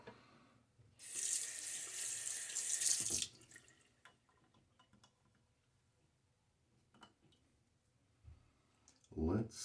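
Water runs from a tap for about two seconds while shaving lather is being made, then stops, leaving soft clicks, small handling sounds and quiet talk.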